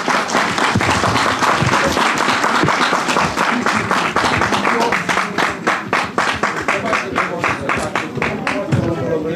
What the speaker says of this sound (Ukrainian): по завершенню віддячили квітами та оплесками стоячи